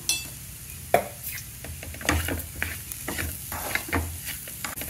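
A spoon works through beetroot coconut curry seasoned with garam masala in a pan, the mixture sizzling softly beneath repeated scraping strokes and occasional sharp clinks against the metal.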